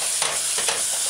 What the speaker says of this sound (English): your chopped mushrooms, and saute.